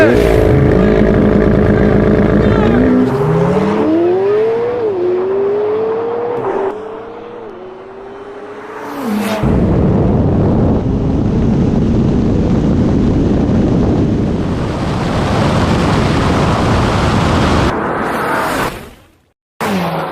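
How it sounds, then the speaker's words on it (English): A McLaren 720S and a Ferrari F8 Tributo drag race, their engines roaring loudly through rising revs and gear changes, then screaming past with heavy wind buffeting before cutting off abruptly. "photo finish for the 720S, the winner, race 1, 721 again. Unlucky Ferrari F8 Tributo, unlucky."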